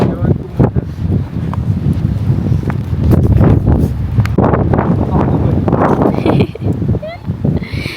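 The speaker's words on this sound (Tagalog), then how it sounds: "Grabe yung hangin. Dito talaga sa Kansas, parang matatakot ka ng hangin." Strong wind in Kansas buffets the microphone in loud, continuous gusts, with a few voices and outdoor movement mixed in.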